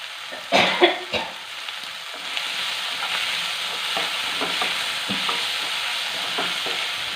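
A homemade noodle mixture is stirred and sautéed in a pan with salt and spices, giving a steady close sizzle throughout and a few sharp scraping strokes of the spoon near the start.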